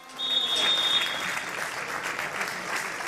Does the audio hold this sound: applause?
yes